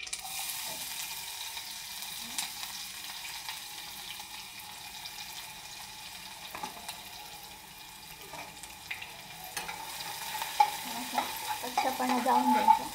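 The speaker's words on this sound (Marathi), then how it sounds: "मोहरी टाकली, कढीपत्ता, जिरं टाकलं, लसूण टाकते" Mustard seeds, curry leaves, cumin and garlic sizzling in hot oil for an Indian vegetable dish, a steady close hiss throughout that grows busier and crackly toward the end, with no talking.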